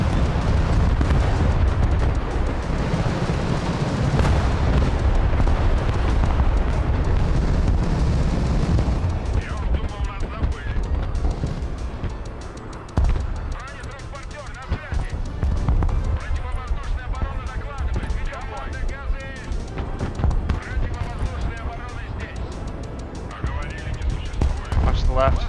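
Cruise missile strikes hit a city in the war game Broken Arrow. Heavy rumbling explosions and crackling blasts pile up loud and dense, then ease into scattered booms and debris as a voice talks over them.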